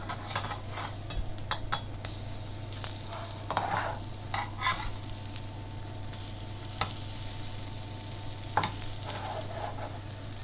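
Organic blueberry pancakes cooking in a pan give a steady, close sizzle and frying hiss, with scattered light scrapes and clicks throughout and no voices.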